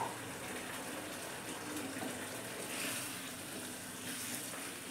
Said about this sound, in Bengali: অল্প পরিমাণে জল দিলাম।